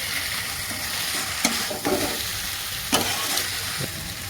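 Onion stalks and small chuno fish are stirred in a hot sizzling pan, a steady frying hiss with a few scraping strokes of a spatula, close and alone.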